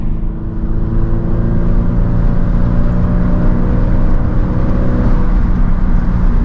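A stock Toyota GT86 pulls away from a standstill, a steady, loud engine drone with a rising note that holds evenly throughout, heard from inside the car with no talking.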